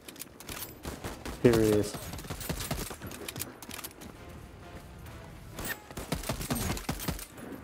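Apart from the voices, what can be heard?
assault rifle fire in the video game Voidtrain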